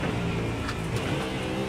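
A Mustang GT3 race car engine in the iRacing game at Watkins Glen, a continuous loud roar with a dense rumble that holds steady through the short stretch, with no speech.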